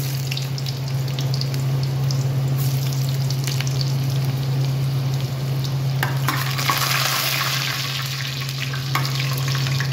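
Garlic sizzles steadily in a hot pan, with scraping stir strokes and a brighter burst of frying partway through, close and continuous with no talking.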